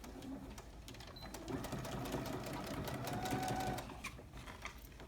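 A sewing machine stitches and backstitches along a petersham waistband, its quiet, continuous mechanical hum and needle ticks faint and steady without talk.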